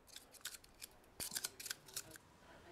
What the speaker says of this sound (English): I need a little space cut out of the front of the fuselage as well for the connections to fit into